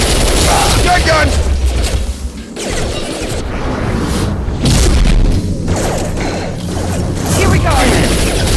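Heavy blasts and clanking mechanical crashes from a firefight in Mass Effect 2, loud and continuous, with a voice briefly audible amid the din of the shotgun fire.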